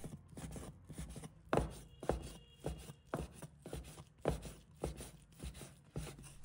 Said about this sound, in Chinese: 然后切成小粒